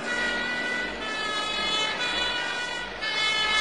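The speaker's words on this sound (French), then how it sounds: "La voiture des pompiers ne s'arrête pas au feu rouge." A fire engine siren wails loudly and continuously close by, its steady tone carried over the rumble of the moving truck through a city street.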